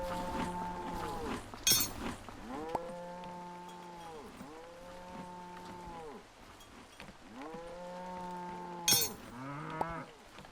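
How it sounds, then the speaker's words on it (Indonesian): Unfed cows in the video game Old Market Simulator moo over and over, with long, drawn-out calls following one another closely and a couple of sharp clicks in between. "Ini kalau belum dikasih makan agak berisik sapinya teman-teman."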